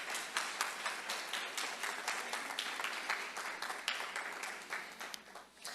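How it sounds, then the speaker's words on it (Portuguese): A church congregation claps along in a steady rhythm, a crowd of hands beating together at a moderate distance, sustained and even throughout. "pode aplaudir Jesus"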